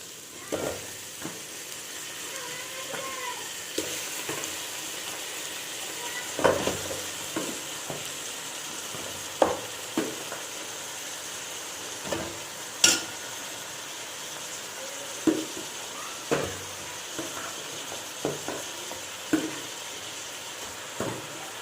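Washed mutton frying with onions in a hot pan over a high flame, a steady sizzle with scattered sharp clicks and scrapes of stirring throughout, fairly close and alone without talk.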